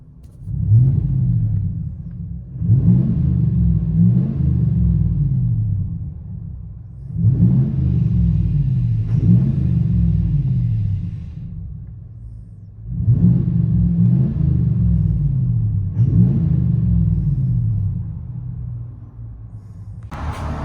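A low pickup truck engine rumble with a Flowmaster exhaust heard from inside the cab, steady warmed-up idling with periodic gentle surges and dips in loudness, no talking.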